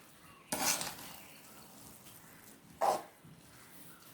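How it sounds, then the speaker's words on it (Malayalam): Semolina upma, cooked without coconut, stirred in a pan: two distinct close scrapes and clinks of a spoon against metal, separated by a quiet stretch of low background noise, with no talk. "ഇളക്കി നോക്കുക ഇത് വെന്തോന്ന് അറിയാൻ വേണ്ടിയിട്ട്"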